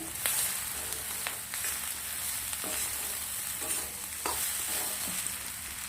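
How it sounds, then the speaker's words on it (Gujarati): Rice sizzles steadily in a frying pan while a spoon scrapes and taps the surface in irregular strokes. "હવે આપણે સરસ મજાનું મિક્સ કરવાનું છે"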